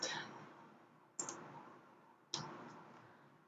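Three sharp, isolated mouse clicks spaced about a second apart, each followed by a faint fading decay, in a quiet room during Windows Server setup with no talking.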